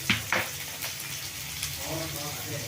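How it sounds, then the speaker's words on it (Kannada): Okra frying in a pan, a steady close sizzle with a couple of sharp stirring clicks at the start, continuing evenly. "ಅದು ಮೆತ್ತಗಾಗೋವರೆಗೂ ಹುರ್ಕೊಳ್ಳೋಣ"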